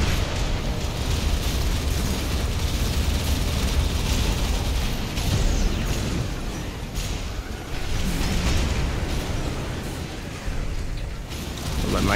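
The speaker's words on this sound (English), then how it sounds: "Spinning torso grenade maneuver." Grenade explosions from a spinning torso maneuver by a mech in the video game Armored Core 6. A dense, loud, continuous wash of booms and mechanical clatter runs without letup for about twelve seconds.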